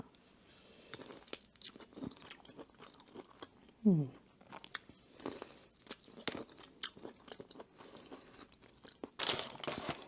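Plain shrimp being eaten at a restaurant meal, close soft crunchy chewing and biting in irregular bursts with wet mouth sounds, fairly quiet, with a brief vocal noise midway.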